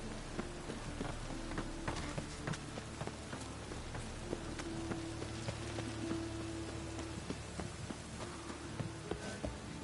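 Steady rain pours down in the fantasy game The Witcher 3, a constant dense hiss with scattered droplet patter throughout, with no speech.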